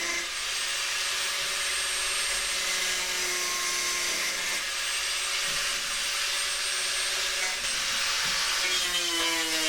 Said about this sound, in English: this way I could just slice them off